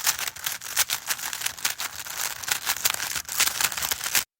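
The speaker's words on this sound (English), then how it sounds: "That's the sound of my 9-year-old son solving a Rubik's Cube." A Rubik's Cube is twisted rapidly by a 9-year-old boy, giving a dense, continuous stream of plastic clicks and clacks, close and busy, for about four seconds with no talking.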